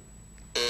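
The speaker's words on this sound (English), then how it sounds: "Buzzer hit" Game show buzzer on a 1981 daytime quiz show, one sudden loud electronic buzz cutting in after a quiet moment and holding steady to the end.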